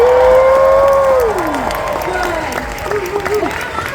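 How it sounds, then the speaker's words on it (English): A crowd at a cosplay competition cheers and whoops with scattered clapping, loud and continuous at first before easing slightly, while a voice carries over the top. "you better give them the loudest cheer."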